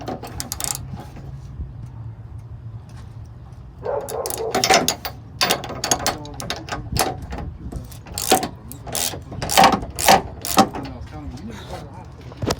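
A ratchet works on the bolts holding side steps on a 2001–07 Chevy Silverado, giving sharp metallic clicks and clanks in irregular bursts, close up, while someone talks throughout.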